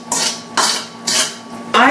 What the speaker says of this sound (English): Dump it all out here with my mama's wooden spoon